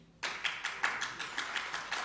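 Audience applause in a hall during a talk, coming as a run of distinct, evenly spaced claps that start abruptly and continue at a steady moderate volume with no voices.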